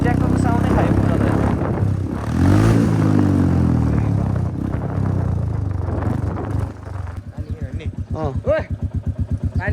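A Royal Enfield Bullet fitted with an Akrapovič exhaust rumbles loudly, swelling in a rev, then settles into a rapid, even thumping idle, with people talking over it.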